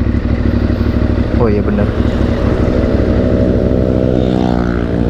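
A modified Yamaha Byson motorcycle engine runs loud and close, rumbling steadily with a brief rev midway, while someone speaks over it.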